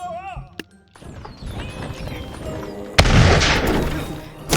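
Musket volleys crack out in the battle game Totally Accurate Battle Simulator, a sharp shot early on and a louder burst of gunfire later, amid clattering battle noise and chaotic game sounds.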